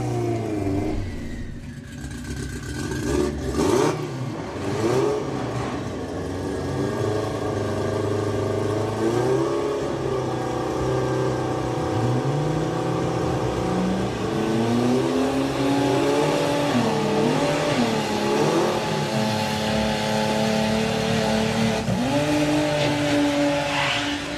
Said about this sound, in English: Sam blows the tyres off there